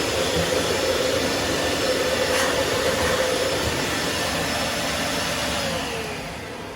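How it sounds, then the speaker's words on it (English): Vacuum cleaner pushed into a dryer vent to suck out lint, giving a loud steady roaring whoosh that holds for several seconds, then eases down slightly near the end. "So I'm gonna stick the vacuum through there and vacuum it out."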